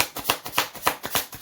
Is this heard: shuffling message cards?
yes